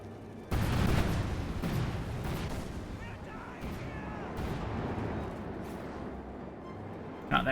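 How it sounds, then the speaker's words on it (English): Cluster bombs going off in the Company of Heroes 2 strategy game: a sudden heavy blast followed by a long rumbling spread of overlapping explosions and debris at steady loudness, with a few sharper bursts near the end. "Cluster bombs again."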